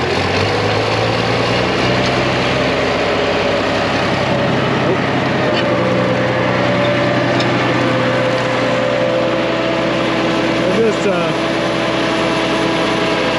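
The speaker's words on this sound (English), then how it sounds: "Dyno's sitting here running, warming up" An International Harvester 1206 Wheatland tractor engine warming up on a dynamometer, a steady loud diesel drone holding constant throughout with faint intermittent talk underneath.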